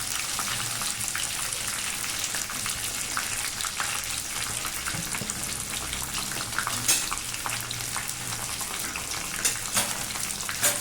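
Green chillies and curry leaves sizzle steadily in hot oil in a pan for egg biryani with brown rice, a dense continuous frying hiss with occasional louder crackles and no talking.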